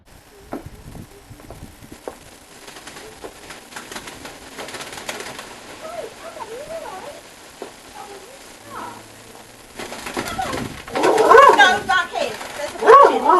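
A pigeon coos softly and flaps its wings in a garden, with flurries of wingbeats growing louder toward the end while a person talks nearby.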